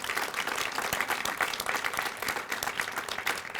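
Indoor audience applause at a ribbon cutting ceremony, a steady dense wash of clapping from a crowd, fairly close and sustained with no speech over it.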